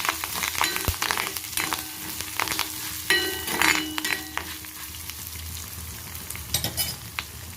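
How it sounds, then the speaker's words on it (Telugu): Curry leaves fry in a pan for a Telugu chutney powder, with a steady sizzle broken by stirring scrapes and a few light clinks of a utensil, close up and without talk. "ఇది వేగినాయి కదా, కాస్త కరివేపాకు కూడా మగ్గాలి లైట్గా"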